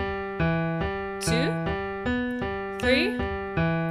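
Piano playing a repeating broken-chord pattern in the left hand, with steady struck notes in a regular rhythm and a couple of brighter accented chords, heard clearly and alone.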